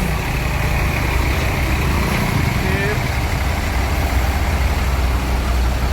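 A Rosalia Indah tronton bus idles in a steady, loud low rumble, with constant engine drone and busy station background, no clear changes over the stretch.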